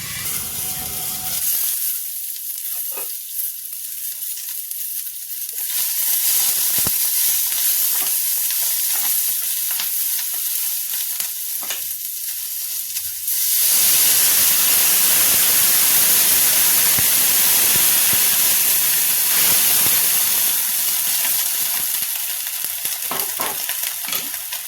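A spicy green chilli sabzi with masala fries in a pan, giving a loud, continuous hiss and crackle that swells and steadies as stirring goes on, with no voices.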